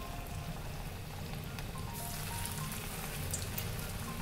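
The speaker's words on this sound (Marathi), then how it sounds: "पाऊस पडतोय।" Steady rain falls outdoors on a cool, windy evening, a soft continuous hiss of drops on surfaces that stays even and fairly faint throughout with no talk.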